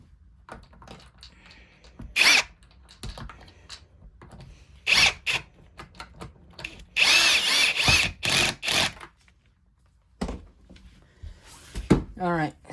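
Screws are driven into the plastic housing of a Dirt Devil Endura Express vacuum cleaner with a power drill, giving several short whirring bursts between quiet pauses, with speech nearby.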